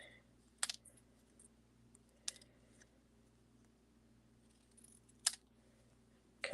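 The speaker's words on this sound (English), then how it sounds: "now I'm going to cut these out, and I'm going to trim them down just a little bit" Scissors snip through paper shapes in a few sharp, isolated cuts spaced seconds apart, quiet and close against a faint steady room hum.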